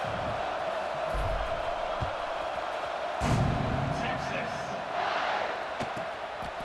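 Stadium crowd in the EA Sports College Football 26 video game, a steady distant roar with a brief swell and a few thuds.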